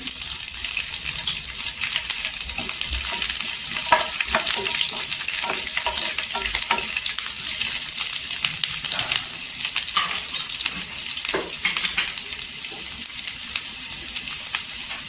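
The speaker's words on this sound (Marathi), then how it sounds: "इथे जिरं टाकायचं, 1 चमचा जिरं छान असं तरतरलं पाहिजे।" Cumin seeds and garlic crackle and fry in hot oil for a Kolhapuri green chilli thecha, a steady dense sizzle with scattered sharp pops and stirring clinks throughout, close and fairly loud with no talk.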